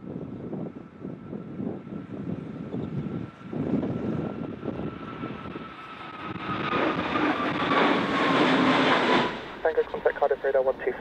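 Jet engines roar and build steadily as an airliner powers up for takeoff on runway 27 during Storm Eunice, strong wind buffeting throughout, with a brief burst of air traffic radio chatter near the end.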